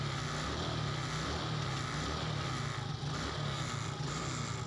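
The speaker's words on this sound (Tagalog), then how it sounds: "Under ng kusa yung motor pag sinusi mo, parang kotse siya." A Suzuki Smash 115 motorcycle with a key autostart system runs at a steady idle close by, its engine droning evenly and continuously without pause.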